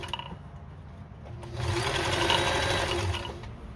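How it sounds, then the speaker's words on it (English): Sewing machine stitching a vest collar, a close, rapid mechanical whirring that runs lightly at first and then grows louder and steadier partway through, with no voices. "I'm making sure that I hold this open and flat so nothing bunches, especially when you're sewing near the corner."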